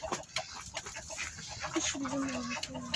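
Backyard hens clucking close by on a small farm, soft repeated clucks and a rising cackle over a busy, rustling background, with faint talk mixed in.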